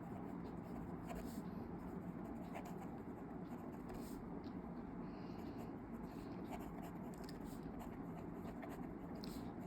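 Pen scratching on paper as journal entries are handwritten in an accounts notebook, a faint continuous scribbling with brief strokes, under soft talking.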